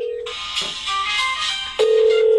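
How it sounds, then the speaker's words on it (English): A mobile phone ringing with an incoming forwarded call, a loud electronic ring of steady tones that stop briefly, then a clear ring resumes near the end, heard alone without speech. "it's going to call my mobile phone"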